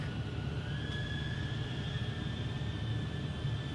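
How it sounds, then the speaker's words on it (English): A DJI Avata FPV drone flies outdoors over a grassy field in fine weather, giving a steady, loud whine with a sustained tonal hum over constant broadband rumble, unbroken and alone throughout. "I don't know if you can hear the noise from the drone, but it's really so noisy."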